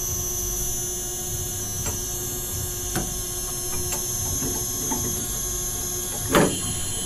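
A Techniks ShrinkPRO shrink fit machine heats a tool holder with a steady electrical hum and mains buzz, broken by a few faint clicks and one louder clunk near the end. No one speaks.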